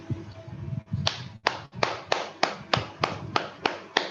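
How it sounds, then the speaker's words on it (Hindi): A group clapping hands after meditation, a string of about ten sharp, evenly spaced claps close by, starting after a short scuffling pause. "एक बार क्लैपिंग करेंगे, हम सब ताली बजाएंगे।"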